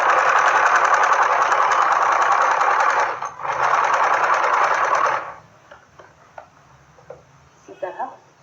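A sewing machine whirs steadily while stitching a simple salwar, running in two bursts with a short break, then falling quiet to faint handling sounds; a voice speaks in the background.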